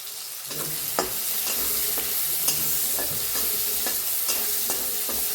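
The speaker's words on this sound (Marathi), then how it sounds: "एक कांदा कापून घेतलाय ती बी टाकूया लसूण चेचून घेतलाय ते बी टाकूया आणि छान दोन्ही भाजून घेऊया" Chopped onion and crushed garlic fry in a pan for a village-style cluster bean dish, with a loud, steady sizzle and regular scraping stirs roughly every half second, close up and without talk.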